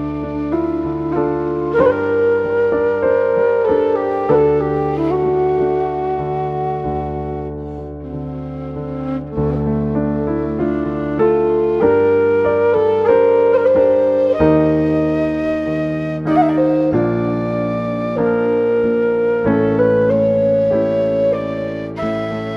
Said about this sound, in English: Ample China Dadi, which is a bass DC, a side-blown Chinese flute,